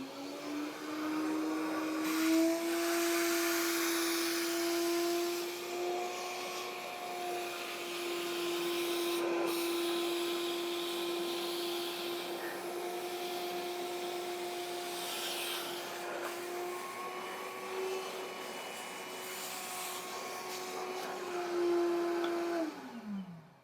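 A Milwaukee M12 cordless vacuum runs steadily with a high whining motor tone and rushing airflow, close and loud for over twenty seconds before spinning down at the end.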